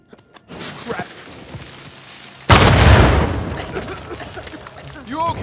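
A loud explosion in the Uncharted 4 video game bursts out suddenly midway and rumbles as it fades, with voices speaking before and after it.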